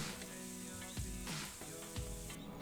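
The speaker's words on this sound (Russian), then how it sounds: "Жарим на среднем огне 3 минуты." Steady sizzling of grated carrots and onion frying over medium heat in a hot pan, with a couple of soft stirring scrapes, close and continuous throughout.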